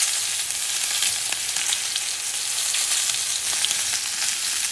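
Duck breast frying in a pan on a stove, a steady close hiss and crackle of sizzling fat with small pops, continuous throughout with no talking.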